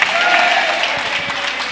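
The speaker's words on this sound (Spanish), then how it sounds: "¿Alguien le da un aplauso a Jesús esta noche?" A church congregation applauds during an evening sermon, a brief burst of many hands clapping together with faint crowd murmur beneath.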